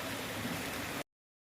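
Wolf Creek Falls, a springtime waterfall near Saint Clair, Pennsylvania, gives a loud, steady broadband rush of falling water heard up close, constant for about a second before cutting off abruptly.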